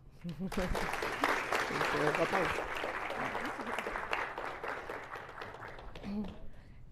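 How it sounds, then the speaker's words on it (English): Applause from a colloquium audience greets an astronomy speaker as she comes up: a moderate, fairly steady round of clapping for several seconds, with some voices mixed in, tapering at the end. "Please, let's receive with a big round of applause, Dr. Desireé Cotto-Figueroa."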